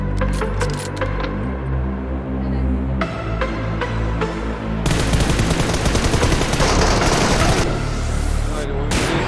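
Gunfire in the mobile battle-royale game PUBG Mobile: scattered sharp shots early on, then a dense burst of rapid automatic fire from about five seconds onward, loud over a steady musical game backdrop.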